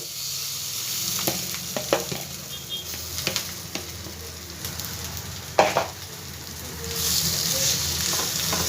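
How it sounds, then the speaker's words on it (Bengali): Prawns laid into a hot frying pan over a low gas flame crackle and sizzle up close, with scattered sharp pops and utensil taps and a louder burst of frying toward the end. "এবার সব চিংড়ি মাছটা আস্তে আস্তে এর ওপরে দিয়ে দেবো।"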